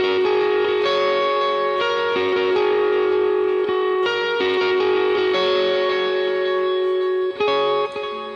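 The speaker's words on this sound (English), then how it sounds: "I'm using a dotted eighth delay there, so you'll kind of hear it." Electric guitar plays a sustained lead part for Charity Gayle's "I Believe" through a dotted eighth delay, each note repeating in rhythmic echoes, creating a shimmering, continuous wash of sound.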